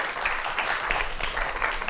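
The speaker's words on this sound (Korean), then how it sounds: "박수로 맞이해 주십시오." A studio audience at a televised Korean lecture show claps steadily to welcome two guest speakers onto the stage, a dense, even patter of applause.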